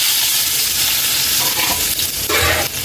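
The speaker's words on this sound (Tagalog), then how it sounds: "Lagay na natin yung butter natin." Butter melting into leftover oil in a pan, a loud, dense, steady sizzle with a few stirring scrapes toward the end, close and without talk.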